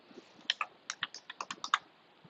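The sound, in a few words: typing on a computer keyboard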